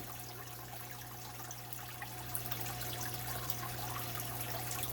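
Water runs steadily into an aquarium tank during a water change, a quiet continuous trickle and hiss with a low hum underneath, faint and unchanging.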